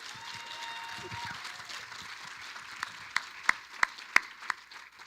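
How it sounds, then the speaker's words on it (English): Audience applause at a Baptist church service, a soft, steady wash of clapping heard at a distance, with a few sharper claps standing out near the end. "Let's give them another round of applause."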